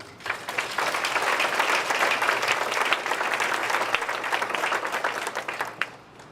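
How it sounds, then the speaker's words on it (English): An audience at a roast and toast event breaks into sustained applause, dense steady clapping filling the room from start to finish before tapering slightly at the end. "I want to give you a round of applause, everybody."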